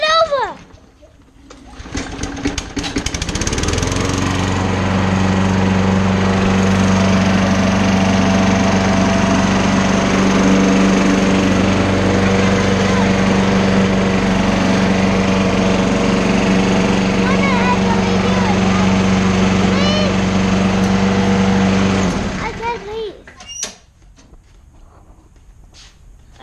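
A small engine on lawn equipment cold-starts and runs at a steady, loud drone with a strong low hum for about twenty seconds before shutting off, with brief voices around the start and end.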